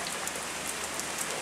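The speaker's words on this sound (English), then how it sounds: "It's definitely raining out there." Steady rain patters on an outdoor deck, a dense, even hiss of drops with scattered louder splats close by, continuous and unbroken with no voices.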